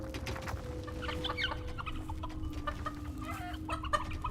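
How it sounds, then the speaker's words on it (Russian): Chickens clucking in the video game Dungeons 4, several short clucks and squawks scattered over a low steady game drone and a faint tone. "Блин, я слышу петушню, но не вижу петушню."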